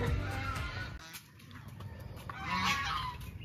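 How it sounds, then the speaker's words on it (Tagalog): Geese honk repeatedly at a fishing farm in Paombong, Bulacan, their calls overlapping at moderate distance in a noisy outdoor setting, louder toward the end. "Mga gansa na dito."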